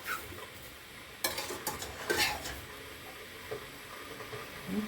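Spoon scraping and stirring mushrooms in a pot with soft sizzling, a few sharp clinks of utensil against metal, close by with no talking.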